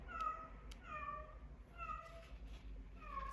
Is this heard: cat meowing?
yes